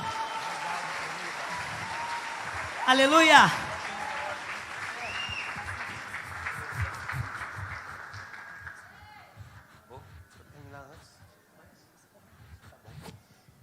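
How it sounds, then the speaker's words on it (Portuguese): A church congregation applauds for several seconds, a broad wash of clapping and cheering that gradually tapers off, with a voice shouting a praise exclamation over it. "vamos aplaudir o Senhor?"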